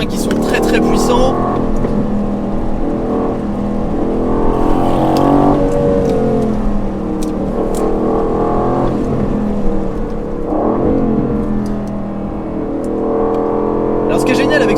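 Aston Martin Vantage with a biturbo engine revs and pulls hard on the Nürburgring track, its engine note rising and falling through gear changes, with a voice talking over it nearly throughout.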